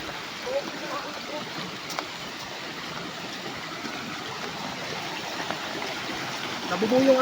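Stream water flows near Alitap Falls in a continuous rushing wash that stays constant throughout, with faint voices briefly near the end.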